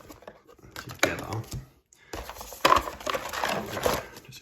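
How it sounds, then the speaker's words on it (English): Dune Imperium board game cards being shuffled by hand, soft papery riffles and crinkly rustles in short close bursts, with a quiet voice talking over them. "So what we need to do is shuffle all these cards together."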